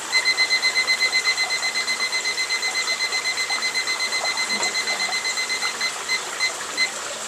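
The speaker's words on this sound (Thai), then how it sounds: "พอครบเวลานาฬิกาก็จะเตือนแบบนี้นะครับ" A digital countdown timer beeps when the time runs out, giving a rapid, steady run of high electronic beeps in pulsing groups that carries on for several seconds, loud and close.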